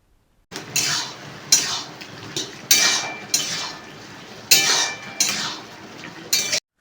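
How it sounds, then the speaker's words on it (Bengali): A metal plate set down as a lid over a pan of potatoes and ridge gourd cooking on the stove, giving several sharp clattering bursts at irregular intervals, fairly close, with no talk. "এবার একটি থালা দিয়ে ঢেকে দিতে হবে সেদ্ধ হওয়ার জন্য।"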